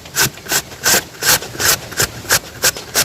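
A peeled vegetable scraped against a hand grater while cooking in an African village, about a dozen even, rasping strokes in a steady rhythm, close and loud with no talking.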